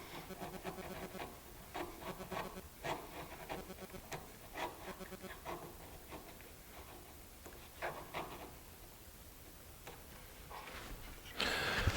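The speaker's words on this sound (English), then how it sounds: "those 2 quick little passes with the chisel have made this piece so they slides very nicely together now" A chisel pares thin shavings from a wooden sliding dovetail joint for a side table, giving a series of soft, close scraping and rubbing strokes in irregular bursts, quiet and with no talking.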